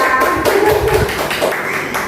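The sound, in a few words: teachers clapping hands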